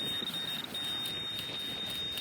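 A metal detector on a target gives a strong mid-range tone, a steady high-pitched beep held continuously at close range over faint outdoor background noise.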